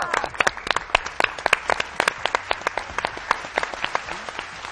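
Studio audience applauding on a Spanish-language TV morning show, a dense run of sharp hand claps filling the whole stretch at steady loudness, no one talking over it.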